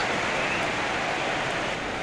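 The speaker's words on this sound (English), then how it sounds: "So the heavens have opened. The rain is coming down here in Manchester." Steady rain pours down in a PES 21 football match in Manchester, an even, dense hiss that stays constant and fairly loud throughout, with no voices.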